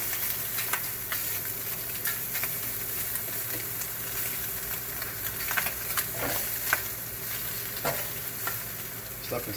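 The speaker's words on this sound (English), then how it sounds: "You want that sugar to start browning up in this meat." Meat cooked with sugar sizzles and fries steadily in a hot pan for pork and beans, a dense continuous hiss with occasional sharper crackles and pops, close and fairly quiet, with no talking.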